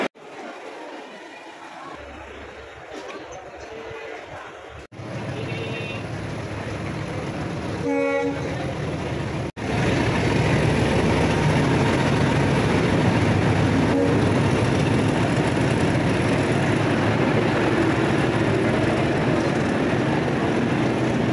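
The 12809 Mumbai CSMT to Howrah Nagpur Mail, an Indian Railways express, rushes past near a diamond crossing, its loud continuous roar of wheels and coaches building abruptly and sustained close by, with a horn sounding earlier.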